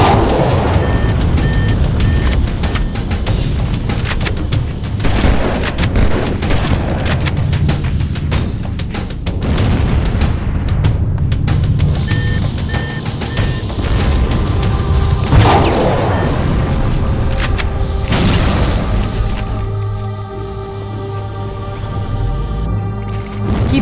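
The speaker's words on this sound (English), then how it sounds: "Use explosives on the other three reactors." Explosions of fusion reactors on a ship's engines in Halo Custom Edition, a heavy continuous roar of game combat with booming blasts around 15 and 18 seconds, loud throughout and layered with rumbling effects.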